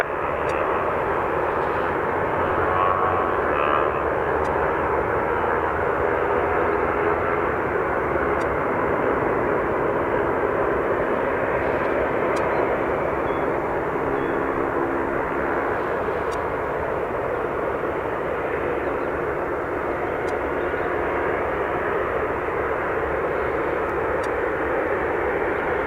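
Airliner taking off from Dublin Airport runway 28 right, a broad steady engine roar holding at an even level for the whole stretch, with faint intermittent radio clicks over it.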